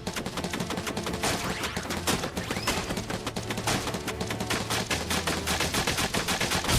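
Rapid video-game gunfire from Final Fantasy VII Rebirth, a dense, continuous stream of loud sharp shots repeating steadily throughout, layered over a sustained low musical drone with no talking.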